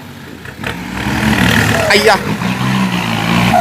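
A heavy diesel dump truck engine revs loudly and steadily, with excited shouting over it throughout.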